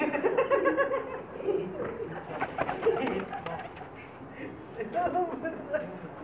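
Soft coos of Lakha pigeons murmur close by, several birds calling over one another in low, throaty bursts throughout; one is an older bird.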